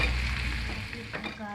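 Tomato dropped into a hot frying pan with peas, carrot and cabbage set out nearby, giving a steady loud sizzle and crackle of frying throughout the short moment, with no voice over it.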